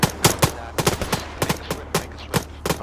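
A machine gun fires from a hill in a jungle combat game, a quick string of about a dozen sharp, evenly spaced shots in under three seconds, fairly close and loud.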